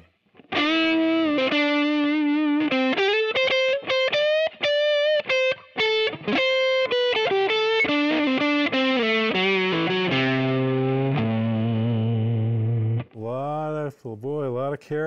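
A Gibson Memphis ES-335 electric guitar plays a run of sustained distorted notes and chords, loud and close, then falls into lower ringing tones and a few bent notes near the end.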